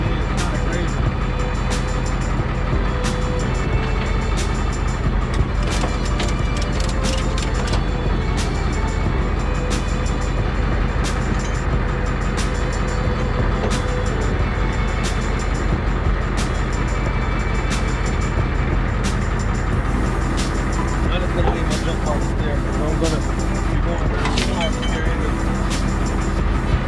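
A tow truck drives along, its engine and road noise forming a steady, close, continuous rumble that lasts throughout with no clear breaks.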